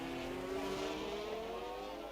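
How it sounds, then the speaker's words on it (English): An F1 car in F1 22 brakes and turns into a hairpin at the Canadian circuit, its engine note held steady and sweeping in pitch, loud and continuous with no talk over it. "He'll chuck his car into the hairpin."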